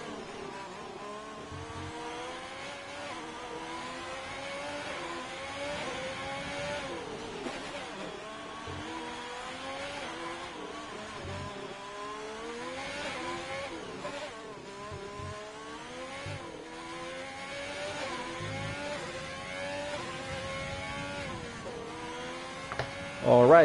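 On-board race car engine in an F1 video game at Singapore, a Ferrari-style single-seater revving hard through gear changes, pitch climbing and dropping steadily across the lap, loud and continuous with little else over it.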